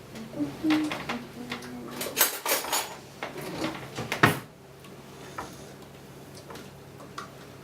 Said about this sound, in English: Gethin, do you wanna come and stir this with me gently?